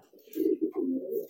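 Young homing pigeons in training coo in soft, low, throaty burbles, three close rolling phrases in quick succession with nothing else heard.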